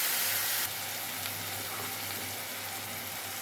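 Eggplant pieces sizzling in a hot pan with spices, a loud, steady frying hiss that surges briefly at the start as the pieces go in, then settles into a continuous crackle.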